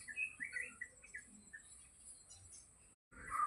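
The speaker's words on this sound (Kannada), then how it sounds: "ಹಕ್ಕಿಗಳು ಖುಷಿಯಿಂದ ಚಿಲಿಪಿಲಿ ಹಾಡ್ತಾ ಉಂಟು." Small birds chirp outdoors in the morning, with several quick, high tweets and short calls scattered at moderate distance over a quiet background.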